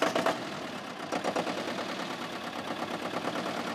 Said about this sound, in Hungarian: 30 lóerős kis traktorát indítja be éppen Vörös László csantavéri konyhakertész.